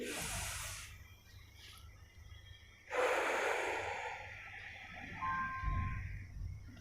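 A close pranayam breathing exercise with deep nasal inhales and exhales: a breathy hiss, a pause, then a longer, stronger rush of air as the next breath is drawn, heard alone without speech.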